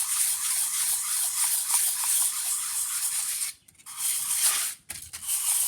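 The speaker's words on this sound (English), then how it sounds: "This is 320 sandpaper." A phonograph reproducer is rubbed in circles on 320 grit sandpaper laid over a granite surface plate, giving a continuous close, gritty scrubbing hiss that stops briefly twice.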